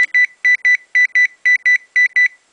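Traditional alarm clock tone from an Arduino-built multifunction alarm clock: loud, clean electronic beeps in paired bursts, about four pairs repeating at a steady rhythm, close and alone with no talk.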